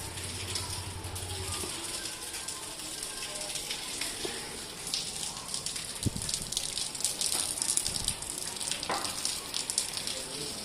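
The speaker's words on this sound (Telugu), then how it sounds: "వర్షం అయితే స్టార్ట్ అయింది బయట అయితే" Rain pours outside a house in a dense, steady hiss with scattered spatters and a few louder clatters. It runs continuously throughout and sounds fairly close.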